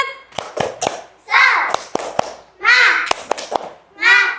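Schoolchildren in a classroom performing a rhythmic clapping cheer, sharp claps in quick patterned bursts alternating with loud group chanting in children's voices.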